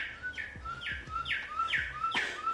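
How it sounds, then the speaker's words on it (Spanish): A bird-sound clock chirps a series of about five bright, descending tweets in a steady rhythm, clear and close in a quiet room. "Esta interrupción es un reloj divino de pájaros que hace ruidos de pájaros."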